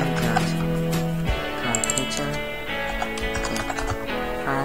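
Code is typed on a computer keyboard in Visual Studio, a steady run of close, light key clicks going on without a break.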